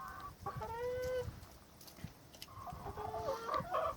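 A spotted hen clucks and squawks up close, with a drawn-out call early on and a burst of rapid clucks near the end in a quiet setting.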